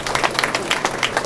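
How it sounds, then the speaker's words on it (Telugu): An audience claps loudly and steadily at a church feast gathering, a dense run of many hands close by. "మన నిర్మలా సిస్టర్లకు గట్టిగా చప్పట్లు కొట్టి వందనాలు తెలుపుతున్నాం"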